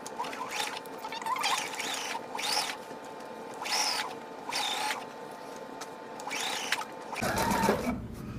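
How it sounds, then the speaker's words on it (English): Sewing machine stitching a pocket onto a prairie apron: several loud motor bursts in a row, each running about a second, with short pauses between them and a heavier mechanical whir at the end, no talk. "So now we're going to sew."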